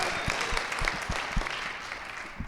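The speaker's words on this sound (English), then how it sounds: "That was me just fishing for a little more applause" An audience at a live talk applauds in a steady wash of claps, with a few sharper, closer hand slaps standing out along the way.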